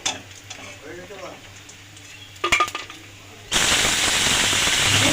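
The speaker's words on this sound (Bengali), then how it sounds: "এরম করেই পুরো মাছটাকে ভেজে নেব তেলে" Mourola fish hit hot oil, and a loud, dense sizzle bursts up suddenly after a few quiet clattering utensil knocks and brief speech, then carries on strongly to the end.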